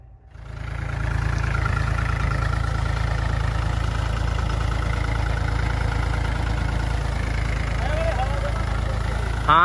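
A tractor engine runs in a maize field during the crop's first spraying, holding a loud, steady, close mid-to-low rumble throughout with no break in the drone.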